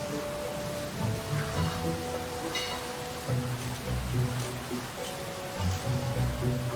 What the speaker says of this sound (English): That night, the wind blew, and the rains pounded down.